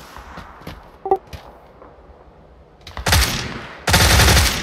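Gunfire in the PC game PUBG: scattered faint shots and small clicks at first, then two loud close bursts of rapid automatic fire near the end.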